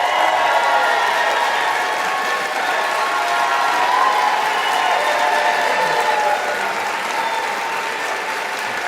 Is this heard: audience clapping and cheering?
yes